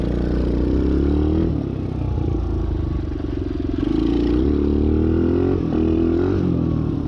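A non-dirt, non-motocross motorcycle engine revving hard while riding, loud and close, its pitch climbing and dropping in several waves with mechanical clatter throughout.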